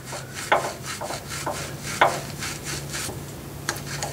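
A scotch pad scrubs the pivot point of a hydraulic clutch piston, a close, dry rasping rub made of short irregular strokes with a few sharper scrapes, with a low steady hum running underneath.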